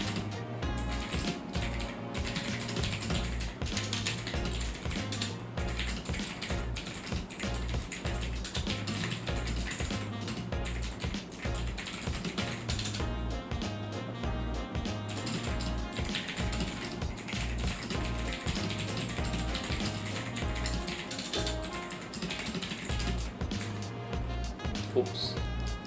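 Typing on an AULA F2058/F2088 mechanical keyboard, a dense, continuous run of clacking keystrokes under a steady low hum, heard close up.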